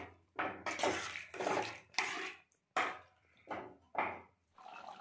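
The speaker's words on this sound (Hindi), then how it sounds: "हम इसमें अभी पानी डाल रहे हैं।" Water is poured in bursts into fried masala in a pan for a village-style rohu fish curry, bringing splashing and sizzling surges that rise and fade several times, close and fairly loud, with no talking.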